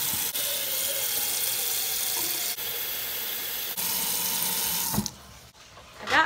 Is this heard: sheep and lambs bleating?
no